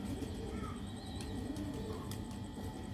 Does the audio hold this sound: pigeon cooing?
yes